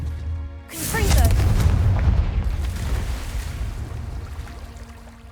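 Confringo blasting spell explosion in Hogwarts Legacy, a single deep boom that erupts sharply and rolls out into a long rumbling decay, loud and close.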